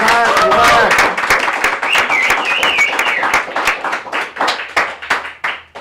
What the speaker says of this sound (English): That was the largest clap that we've ever had in this house.